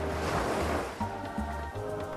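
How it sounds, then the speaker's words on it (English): Strong wind rising over the sea near an uninhabited island, a steady roaring rush of air and surf with low gusting swells, loud and continuous with no voices. "A strong wind is rising."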